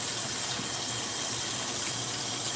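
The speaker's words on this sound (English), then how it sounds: "Let's rinse it one more time" Cool tap water runs steadily over raw chicken being rinsed in a kitchen during a stir-fry prep, a continuous close splashing gush with no speech.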